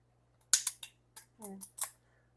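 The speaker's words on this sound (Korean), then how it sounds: "이빨로 시원하게 뜯어줍니다" Plastic kimchi packaging torn open with teeth, giving a quick series of six or seven sharp, crinkly rips up close over a steady low electrical hum.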